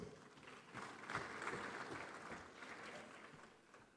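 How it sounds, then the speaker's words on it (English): Applause from a conference audience at a bank business event in Ghana, a soft, sustained patter of many hands that swells slightly in the middle and then eases off, heard at a distance. "Give a round of applause."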